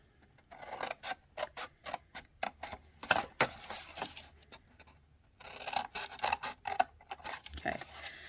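Scissors cut through Stampin' Up! cardstock up to a score line, making a run of crisp, close snips and rasping cuts in quick rhythm with a short pause midway, and no voices.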